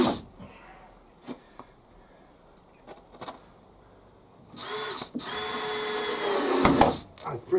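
Cordless power drill driving screws into pre-drilled holes in timber during a shed extension build, several short bursts early on, then one longer sustained whirring run near the end, close and fairly loud.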